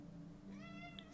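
A pet cat in The Sims 4 gives a single short meow, quiet and close over a steady background hum.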